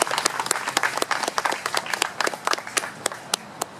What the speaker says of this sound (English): they deserve one more round of applause for the excellent job that they've done